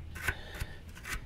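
A brush scrubs dirt off suspension bolts on a 1999 Kia Sportage, making three or four quick, faint bristly swipes up close.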